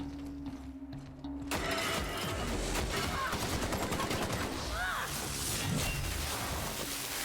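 Sustained, loud gunfire from a first-person shooter role-playing game, The Outer Worlds, rattling almost continuously after a short lead-in with layered impacts and crashes.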